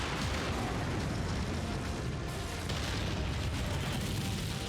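Missiles launch and detonate during a mech battle in the video game Mechwarrior 5, a dense, continuous wall of booming blasts and rumbling impacts that barely lets up.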